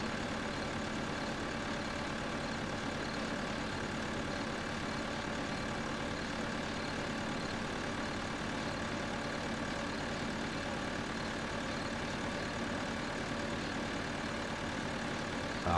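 Small tractor engine in the Farming Simulator game, set to grass mowing, running steadily for the whole stretch as a continuous low drone with an even level, alone and with no talk.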